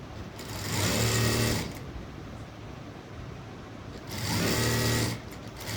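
A sewing machine stitches a blouse in two loud bursts of running, with a quieter pause between them.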